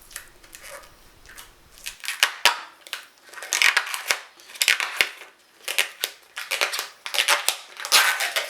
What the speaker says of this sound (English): that wonderful satisfying moment of pulling that plastic off the scratch plate